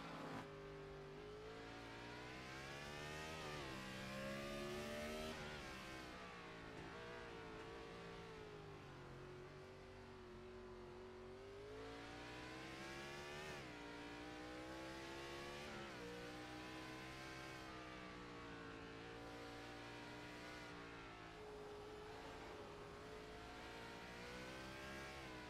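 Race car engine heard onboard at Sonoma Raceway in the iRacing sim, a steady high-pitched howl climbing and dropping through gear changes and corners, continuous and close, with no talking.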